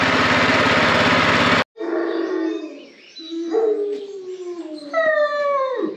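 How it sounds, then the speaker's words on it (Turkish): Several dogs howl together outdoors in long, rising and falling wails that overlap and swell, heard fairly near after a brief burst of loud broadband noise at the start. "Köpekler niye uluyor be arkadaşlar?"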